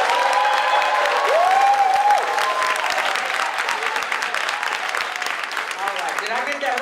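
A gala awards audience bursts into big, sustained applause, dense clapping filling the room with a few whistles and cheers rising over it, loud and steady throughout.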